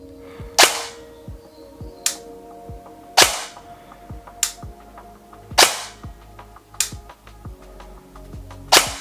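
A Specna Arms SA-F03 Flex X-ASR airsoft electric rifle fires single shots: about seven sharp, close cracks at irregular intervals, with lighter mechanical clicks in between.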